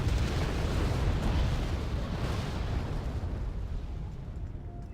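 Artillery explosions in the real-time strategy game Wargame Red Dragon, a loud, continuous rumbling roar of blasts that slowly tapers off.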